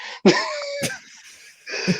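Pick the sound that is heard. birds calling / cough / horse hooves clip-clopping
cough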